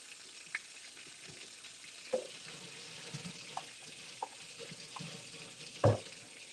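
Whiting fish and shrimp fry in hot oil with a soft, steady sizzle, broken by scattered pops and clinks and one louder knock near the end.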